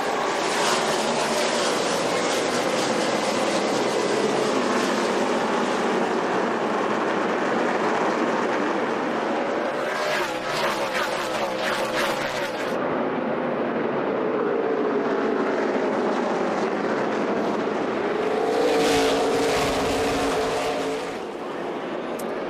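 A pack of NASCAR stock cars roaring off at the start of a 500-lap race, loud sustained engine drone with surges as cars sweep past the microphone.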